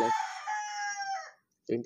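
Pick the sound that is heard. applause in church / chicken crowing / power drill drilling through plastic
chicken crowing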